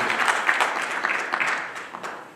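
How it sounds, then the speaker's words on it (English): Audience applause at a conference honouring author Vincent O. Carter: a steady patter of many hands clapping together, dense and fairly close, holding for a couple of seconds before tapering slightly. "You can give it a round of applause to her introduction."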